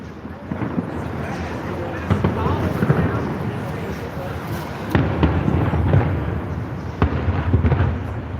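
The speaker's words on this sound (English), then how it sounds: "Here, I'm giving you a fireworks show." Fireworks pop and crack in the distance, with scattered sharp bursts over a rumbling outdoor background in dark downtown streets, and voices talking throughout.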